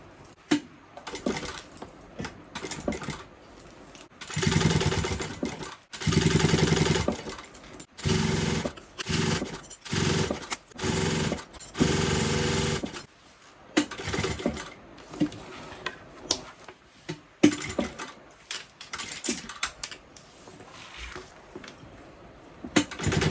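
Sewing machine stitching a crossbody strap for a bucket bag, running in several bursts of steady stitching separated by short pauses, close and fairly loud.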